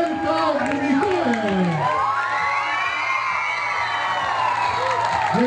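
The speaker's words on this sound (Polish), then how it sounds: "a teraz gorące brawa dla Amerykanki, która przyćmiła wiele gwiazd" Outdoor crowd on a town market square cheering and whooping for an American player from a women's basketball team celebrating its national championship; sustained loud roar with shouts, a voice over a PA carrying on above it.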